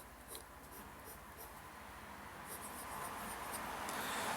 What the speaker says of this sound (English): it seems to squeak a lot on pretty much every paper I've used